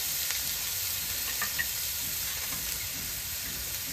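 Cumin seeds, onion-garlic paste and ground coriander sizzle steadily in hot oil, a continuous even frying hiss with faint stirring scrapes and no voices.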